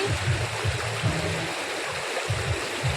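People splashing and playing with their hands in a stream during a family picnic, with continuous rushing water and intermittent low splashes close by.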